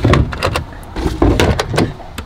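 A cutlery drawer in a 1994 Autosleeper Omega motorhome slides open and shut with a few quick rolling rumbles and light knocks, close by and loud.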